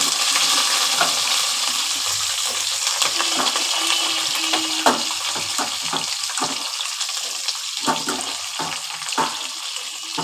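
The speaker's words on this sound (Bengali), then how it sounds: "এবার এগুলো আমি ভালো করে প্রথমে ভেজে নেব একটু ঢাকা দিয়ে দিয়ে ভাজবো" Potatoes and drumstick stems fry in a pan with a steady, bright sizzle, punctuated by irregular clattering scrapes of stirring and no talk.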